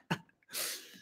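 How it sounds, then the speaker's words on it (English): An adult man sneezes once: a short sharp voiced intake followed by a loud, breathy, hissing burst that trails off over about half a second, with no talking over it. "that was my dad sneezing."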